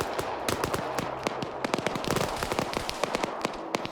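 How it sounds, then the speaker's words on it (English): Rapid sharp cracks and bangs of gunfire and a grenade blast in the video game Arma 3, dense and overlapping for several seconds. "Let me throw a fucking grenade!"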